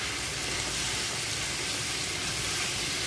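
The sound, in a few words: okra frying with spices in a pan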